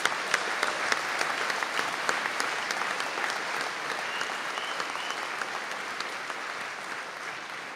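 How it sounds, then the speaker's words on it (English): A hall audience at a university graduation conferring ceremony in Donegal claps steadily, a dense patter of many hands with a few sharper near claps, gradually fading slightly toward the end. "if you could give them all a round of applause"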